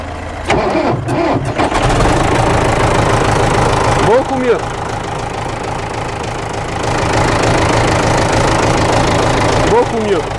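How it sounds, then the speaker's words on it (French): A 2250 tractor engine idles with a newly fitted exhaust silencer, giving a steady mid-low rumble that runs throughout while someone talks over it. "Le tracteur est beaucoup plus silencieux, c'est incroyable."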